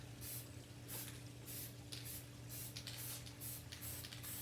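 Black metallic paint sprayed onto a 1980 Chevy mud truck from close range, a steady hiss with repeated short bursts over a constant low hum.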